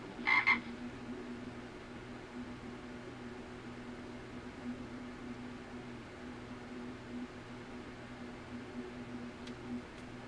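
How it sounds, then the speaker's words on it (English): A frog gives a short, clear croak right at the start, with a fainter call near the end, over a steady low hum and no voices. "Frogs agree."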